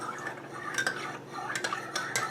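A spoon clinks and scrapes around the inside of a cup while stirring sugar into sweet coffee, close and distinct, several quick rhythmic taps with no talking.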